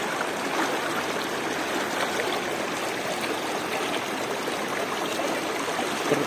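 Steady, unbroken rushing of a knee-deep mountain river flowing over rocks at Gordon Falls, New Brunswick, Canada, full and close, with no voices.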